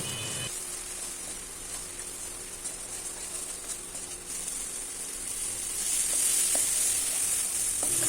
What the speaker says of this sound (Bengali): একটু জল দিয়ে মশলাটা ভালো করে কষিয়ে নিচ্ছি